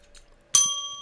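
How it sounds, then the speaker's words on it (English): A handheld bell struck once, a bright clear ding that rings on and slowly decays after a brief quiet moment. "Let's use the bell."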